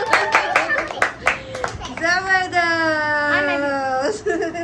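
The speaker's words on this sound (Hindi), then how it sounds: "ताली तो बजाओ" A few sharp hand claps ring out at a birthday celebration, followed by a long, drawn-out, wavering voice that sounds like a child whimpering, with people talking around it.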